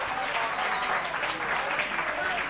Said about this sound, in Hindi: हमें अगर वाकई ताली बजा रहे हैं तो एक बार हौसला अफजाई मिलके कर दीजिए